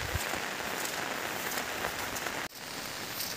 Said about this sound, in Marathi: पाऊस चालू झाला आहे